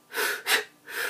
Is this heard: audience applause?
no